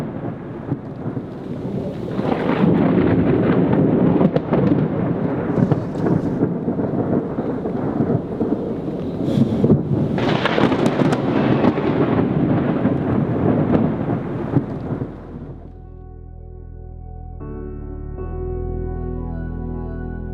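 Thunder from a storm at sea rumbles heavily and continuously for about fifteen seconds with sharper cracks mixed in, loud and close, then gives way to a quieter steady tone.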